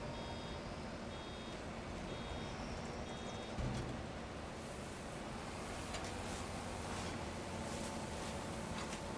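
A truck gives repeated reversing beeps in a farming video game, evenly spaced tones over a steady engine and wind-like background at moderate level, with no talk.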